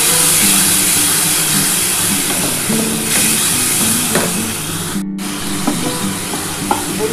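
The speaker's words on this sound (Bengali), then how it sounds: "এই যে মশলার জলটা দিয়ে দিলাম" Watery spice paste of ground tomato, ginger and garlic poured into a hot pan for a catla fish curry with potatoes, giving a loud, steady sizzle and spatter that continues throughout.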